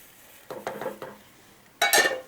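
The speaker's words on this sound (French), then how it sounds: "Allez, on mélange. On touille et on touille encore." Food cooking in a pot is stirred with a utensil, giving several clinks and scrapes against the pot's sides, then a louder rattling burst near the end. No one speaks.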